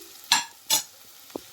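Onions sauté in a pan for a Vaikom-style pork roast, heard as three short stirring bursts of sizzle and scraping, the last one fainter, separated by quiet gaps.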